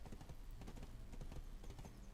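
Horse galloping in the online game Black Desert Online, a fast, steady run of hoofbeats with no talk.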